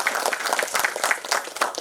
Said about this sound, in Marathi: त्यांचं सुद्धा आपण टाळ्या वाजवून अभिनंदन करूया